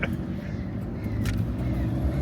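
A Maserati passes near a motorcycle on a road between Malibu and Long Beach, heard as a low, steady engine rumble with a little traffic noise around it.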